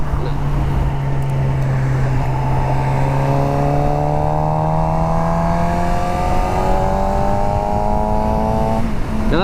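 A car cruises at highway speed with a loud, steady road and wind roar after its key is pulled out, while an engine tone slowly rises across several seconds; someone speaks briefly.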